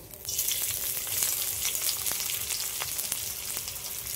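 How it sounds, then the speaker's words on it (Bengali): Chopped onion dropped into hot oil in a wok, bursting into a loud, close sizzle that settles into steady frying with faint stirring scrapes. "কড়াইয়ের মধ্যে কিছুটা তেল দিয়েছি, তেলটা গরম হয়ে গেছে, এবার দিয়ে দিচ্ছি পেঁয়াজ কুচি।"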